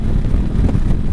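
Steady low wind rumble buffets the microphone throughout, a continuous blustery roar with no voices, while riding a Honda CB500X motorcycle on Highway 101 southbound in the San Francisco Bay Area.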